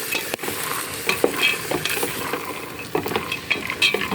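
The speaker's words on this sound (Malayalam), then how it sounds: "നല്ലപോലെ ഒന്ന് ഇളക്കി മിക്സാക്കി കൊടുക്കും" Stirring potatoes, vegetables and green peas in a pan with a little water produces repeated scraping and clacking strokes of a spoon over a soft, steady sizzle, close and without speech.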